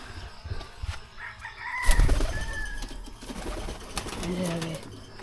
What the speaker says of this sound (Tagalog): yan yung mga kalapati ko